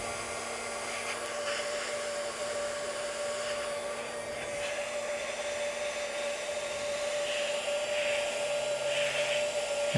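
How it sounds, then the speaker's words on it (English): An industrial heat gun blows with a steady, continuous whirring hiss and a high tonal whine, heating the bearing area of a magnesium GM NP8/NP246 transfer case, close and alone with no speech. "Now, this is an industrial heat gun."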